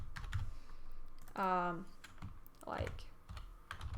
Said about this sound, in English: here start typing like new arrivals